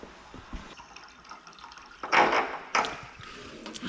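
Water pouring into an engine's cooling system during a water pump repair, a quiet trickle that swells into louder gurgling filling bursts near the end.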